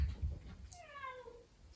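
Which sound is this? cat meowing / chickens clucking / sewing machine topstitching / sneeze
cat meowing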